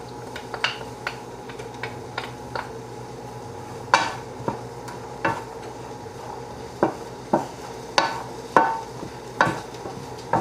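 A soft, steady sizzle of garlic frying in a pan, broken by sharp clinks and scrapes of a utensil stirring against the metal.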